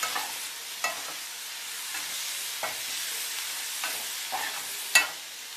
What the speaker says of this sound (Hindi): अब हम इसमें ये गोभी डाल देंगे नमक हम पहले ही डाल चुके हैं इसको अच्छे से मिक्स कर लेंगे